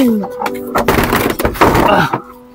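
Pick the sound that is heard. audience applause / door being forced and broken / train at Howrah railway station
door being forced and broken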